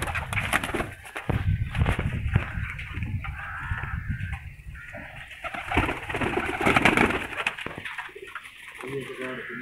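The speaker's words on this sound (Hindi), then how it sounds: "ये टैडी कबूतर है" A teddy pigeon cooing close by, soft throaty coos rising and falling over a background of other birds' calls and flapping, with someone talking intermittently alongside.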